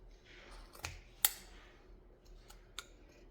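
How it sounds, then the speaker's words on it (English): Scissors struggle through a folded tablecloth, making faint crisp snips and clicks, a few sharp separate cuts spaced out over quiet background with no talking. "My scissors just don't want to cut through all this."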